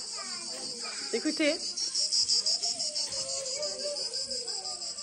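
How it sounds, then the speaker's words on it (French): Cicadas in Provence keep up a loud, steady, shrill buzzing drone for the whole stretch, while someone speaks briefly over it. "Écoutez les cigales."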